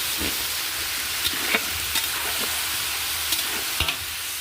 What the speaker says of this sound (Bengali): সবজিগুলো আমি সবটা দিয়ে একটু ভালো করে ভেজে নেব